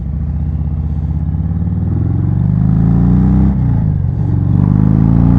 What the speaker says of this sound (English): Yeah, that bike accelerates.